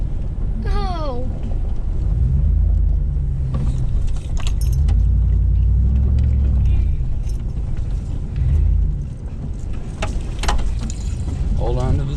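A truck in two-wheel drive lurches over rough, shaky off-road ground, its low rumble and rattling jolts running steadily and close throughout, with people talking and exclaiming over it.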